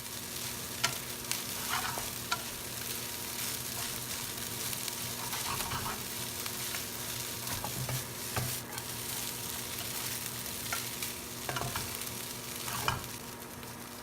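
Vegetable fried rice with kale stir-fries in a pan, a quiet steady sizzle broken by repeated scraping and tossing strokes of a utensil, with no one speaking.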